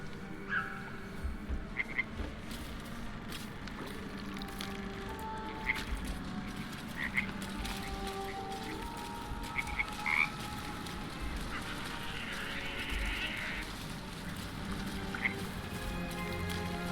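Frog croaking in Baldur's Gate 3, a video game, with scattered croaks repeating at irregular intervals over a steady, dense ambient bed of game background sound, moderately loud and heard without talk.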